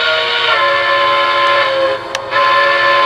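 A Lionel Legacy model train whistle sounds as a sustained, loud steam-style tone with layered pitches, holding steady for about two seconds before a brief dip and a short resumption.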